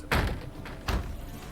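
Heavy banging on a wooden door in The Witcher 3, two loud thuds about three-quarters of a second apart, close and solid, with quieter knocks trailing after each.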